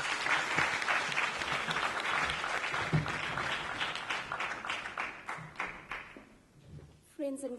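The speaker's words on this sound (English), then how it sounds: "Can you guys take to the stage and can we give them a round of applause?" Audience applause fills a literary festival hall as panelists take the stage for a writers' panel discussion, sustained clapping from a crowd that gradually thins and fades toward the end.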